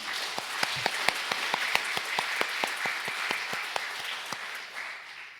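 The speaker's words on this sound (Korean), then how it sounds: "우리 하나님께 영광의 박수 올려드리겠습니다." A Korean church congregation gives applause after a hymn at a Sunday service, a moderate crowd clapping in a roughly regular, rhythmic beat with sharp individual claps standing out, gradually fading toward the end.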